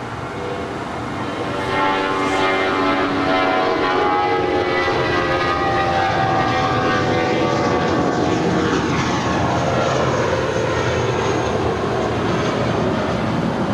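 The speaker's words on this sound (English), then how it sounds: "Next departure for us is Spirit Airlines flight 508 in the birthday cake livery. It's an A320 heading to Louisville," A Spirit Airlines Airbus A320 in birthday cake livery takes off from LAX bound for Louisville, its engines a loud, steady broadband roar that swells early and holds without letup.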